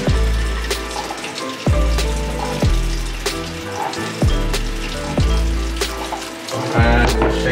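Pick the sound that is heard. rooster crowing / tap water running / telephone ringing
tap water running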